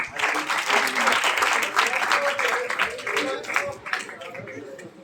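An audience at a stage event claps warmly and steadily for several seconds, a continuous crackle of hands with voices layered over it, easing off toward the end.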